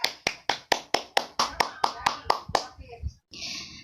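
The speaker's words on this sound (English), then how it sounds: "ladies and gentlemen, please give a big round of applause to all of us" Sharp, evenly spaced hand claps ring out in a steady rhythm from an audience after a panel discussion on child bullying, then end in a brief rustle and soft noise.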